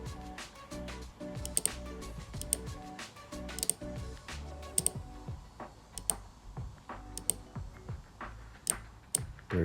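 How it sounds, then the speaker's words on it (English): Car relay powered by a 9V battery clicking repeatedly, sharp close ticks in an irregular rhythm over a quiet background, with a few louder snaps among them. "if you hear a clicking noise, it means the control side of the relay is working properly."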